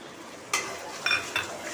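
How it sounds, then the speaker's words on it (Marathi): A spatula stirs dil pasand (tinda) bhaji in a pan, with a soft sizzling bed and three sharper scraping strokes that come close together near the end, no talking. "परत एकदा छान परतून घेऊया."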